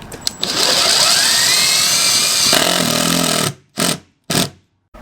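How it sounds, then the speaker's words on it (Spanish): A power drill drives screws into motorhome roof panels during a roof installation, whining loudly and steadily for about three seconds, then two short separate bursts follow after a pause. "Y atornillar."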